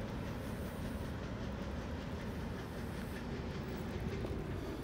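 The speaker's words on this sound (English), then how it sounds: "That was a fast train going right down through the town here in Ashland." A fast train rolls through town in Ashland, its steady rumble and clattering wagons filling the whole span at close range without letup.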